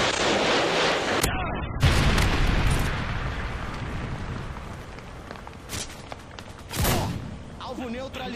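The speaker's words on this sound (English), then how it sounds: "Friendly Predator missile incoming." Predator missile strikes in Call of Duty Modern Warfare 2 on the Quarry map, with a heavy boom near the start and another blast around seven seconds amid a dense roar of gunfire and battle noise, game voices talking throughout.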